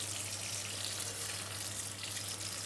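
Warm water runs from a tap into a kitchen sink in a steady, unbroken rush, close and fairly loud, with a low hum beneath and no speech.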